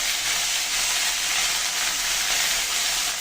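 Turmeric, whole cumin, bay leaf and ground spice paste frying in a pan over a lowered flame, giving a continuous loud, close, even hiss with no talking.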